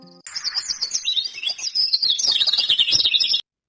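A small cartoon bird chirps and tweets in rapid, bright bursts, loud and close, nearly continuous for about three seconds before stopping abruptly.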